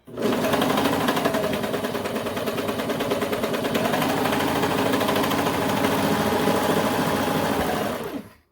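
A sewing machine runs steadily for about eight seconds, stitching a Minikane doll dress through fabric with the layers pushed aside. The even, close motor hum and rapid needle rhythm continue without pause until it stops.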